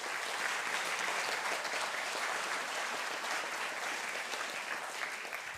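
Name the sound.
audience applause congratulating Rickard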